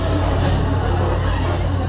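Red Soundtracker roller coaster train at Disneyland Paris Studios rumbles and squeals loudly on its track, a dense close pass with a sustained metallic whine over low rolling noise.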